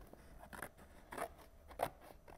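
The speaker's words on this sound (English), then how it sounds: "So you're going to use your scissors" Scissors snip through a cardboard box to cut out square windows for a craft trolley, giving a few separate crisp crunching cuts spaced about half a second apart, fairly quiet and close with no talk.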